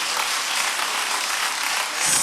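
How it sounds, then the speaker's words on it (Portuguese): A church congregation applauding during a service, a steady dense wash of clapping that holds throughout and swells slightly at the end. "Você pode aplaudir a Jesus"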